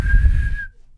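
A single person whistles one steady sustained note lasting a little over half a second, close and fairly loud, then cuts off into near silence.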